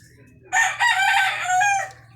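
An imported Boston gamecock crows once, loud and close by, in a single drawn-out cock-a-doodle-doo of about a second and a half. A low hum runs steadily underneath.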